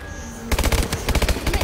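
Automatic gunfire from a weapon in Call of Duty Exo Zombies erupts after a brief quiet moment, a close, loud rapid burst of shots with short uneven pauses between volleys.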